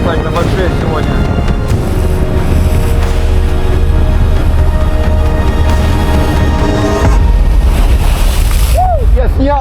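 On a windy seaside day on the Turkish coast, large waves roar and wind buffets the microphone in a loud, continuous rumble, with a voice speaking over it.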